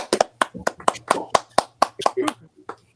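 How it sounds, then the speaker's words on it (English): Sharp, separate hand claps from a small comedy-workshop audience land in a quick, uneven rhythm over about three seconds, close by, with a voice talking underneath. "Another round of applause for Adam"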